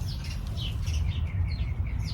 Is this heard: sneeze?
no